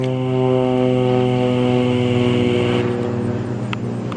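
An aircraft drones steadily overhead with a loud, even engine hum that holds for several seconds and then begins to thin out slightly.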